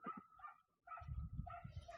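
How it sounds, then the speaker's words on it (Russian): A dog barks at a distant neighbour's place in a rural village, a quick run of several soft, far-off barks and yelps, faint against the quiet countryside. "Собака вдали лает там у соседей."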